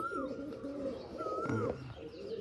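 Soft, low coos from Punjabi Malwai pigeons repeat in a steady murmur, with a brief higher call and a faint shuffle partway through.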